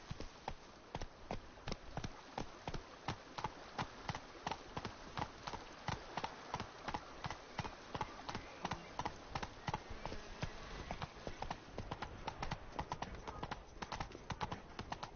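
Hoofbeats of Roach, the horse from The Witcher 3, galloping at a steady fast rhythm of clip-clop strikes through the whole stretch, with faint buzzing ambience underneath.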